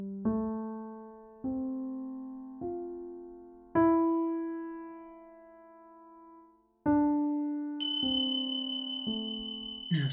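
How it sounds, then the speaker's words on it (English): A series of bright chime strikes ring out one after another at the close of a meditation, each note sustaining and slowly fading, with a higher tone near the end. "until you hear the ringing of the chimes"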